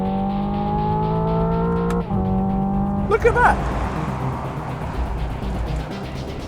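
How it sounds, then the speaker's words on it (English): A Hyundai Ioniq 5 N electric car pipes out a synthetic combustion-engine drone with steady harmonic tones, a sharp simulated gearshift break, then rising revs and tire noise, with someone talking over it. "This car is simulating the sound of an ice car."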